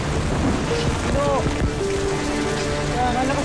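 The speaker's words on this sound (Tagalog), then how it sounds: "Malakas na yung ulan!" Steady heavy rain pours down in a dense hiss, with a voice speaking faintly beneath it.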